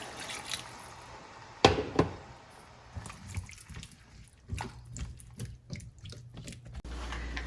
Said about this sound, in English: I'll just deglaze this with a little bit of, maybe about 1 cup of water